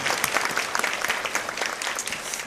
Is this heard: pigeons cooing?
no